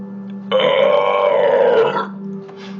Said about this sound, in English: Going for the pirate burp?